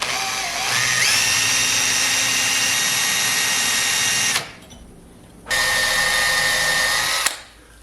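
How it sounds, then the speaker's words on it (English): A power drill whines at high speed as it bores into brass set in cast iron, stops briefly, then starts again with a loud, steady grinding screech. "naturally, the drill bit's going to find the brass."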